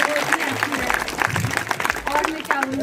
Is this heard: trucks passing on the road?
no